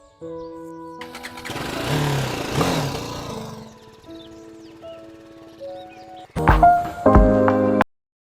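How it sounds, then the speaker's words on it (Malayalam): A BMW G 310 GS motorcycle engine starts and idles, a rough sputtering burst followed by a steady low hum, then a louder rev near the end before it cuts off abruptly. "ലോങ് ട്രിപ്പുകൾക്ക് ഉപയോഗിക്കുന്ന എൻ്റെ ബൈക്കാണ് B M W G S three ten"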